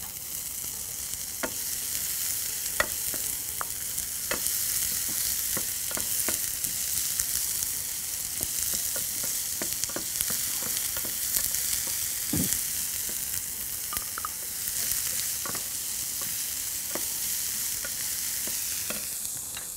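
Onions fry in hot oil with a steady, close crackling sizzle, dotted with sharp pops and spatters scattered throughout.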